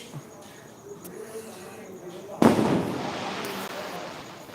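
After a quiet stretch with faint background noise, a firecracker bursts sharply and is followed by a crackling, fizzing rush that slowly fades.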